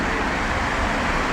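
Street traffic heard from a balcony, a steady broadband wash of passing cars and road noise with no distinct events.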